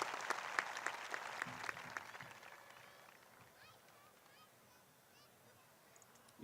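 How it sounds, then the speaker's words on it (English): A high school graduation crowd applauds the class of 2022's top two students, a burst of many clapping hands for about three seconds that thins and fades into near quiet with faint scattered sounds. "Let's give a big round of applause for Laura and Gray"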